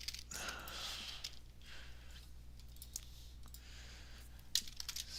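Light clicking of computer keys being typed on, quiet and irregular taps with one sharper click near the end, heard alone against a low room hum.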